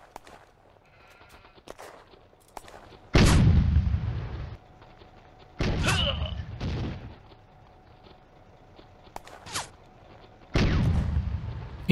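Mortar rounds and shellfire in a WWII combat game set in June 1940 France, several loud separate booms with decaying rumble spaced a few seconds apart over quiet background crackle.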